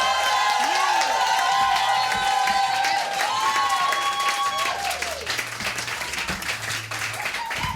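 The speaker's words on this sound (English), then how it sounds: "I know you just applauded" A live audience at a queer poetry open-mic night claps and cheers loudly for the evening's final act, a dense wash of applause with whoops that fades slightly toward the end.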